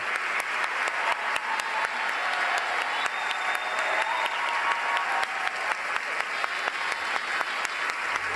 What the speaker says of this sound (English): Standing arm in arm, the 6 women received a standing ovation from the crowd.